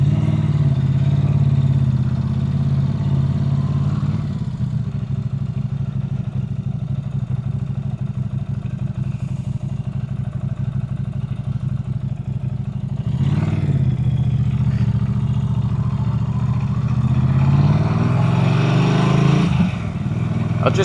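Norton 961 SP Commando motorcycle riding through quiet village streets in East Meon, a steady loud engine drone throughout with a couple of brief swells as it accelerates, no talking over it.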